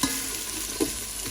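Onions sautéing in a pan make a soft, steady sizzle, with one brief scrape of stirring partway through and no voices.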